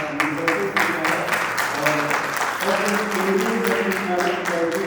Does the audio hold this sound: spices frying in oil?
no